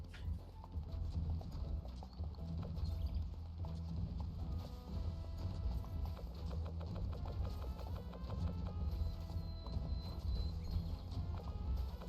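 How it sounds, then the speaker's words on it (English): Rapid horse hooves gallop in a video game, a steady dense clip-clop pounding throughout over a low hum, with no talk. "these horses are fucking fast"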